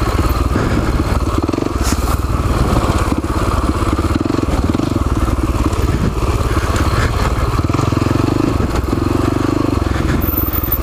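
A Husaberg FX450 dirt bike with a plastic skid plate revs hard and continuously along a technical trail, engine noise close and loud with clattering and occasional thumps over rough ground.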